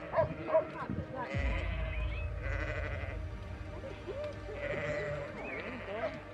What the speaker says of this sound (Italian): Un fiume di pecore.